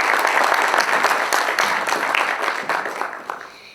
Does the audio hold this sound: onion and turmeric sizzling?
no